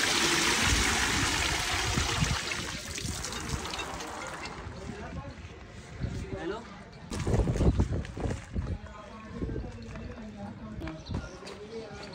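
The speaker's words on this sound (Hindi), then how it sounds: "अभी से नॉर्मल पानी में फिर से साफ किया जाएगा" Shuttlecock feathers are rinsed in plain water during shuttlecock making, with steady splashing and running-water noise loudest at first, then softer sloshing and handling sounds while people talk throughout.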